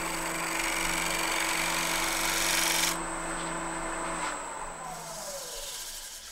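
A woodturning gouge shear-scraping spinning wood on a lathe, a steady close rasping hiss with a constant motor whine, the tone shifting partway through as the tool moves.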